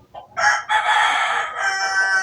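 A hybrid gamecock rooster crows loudly and close by, one long continuous cock-a-doodle-doo filling most of the moment, with no talk over it.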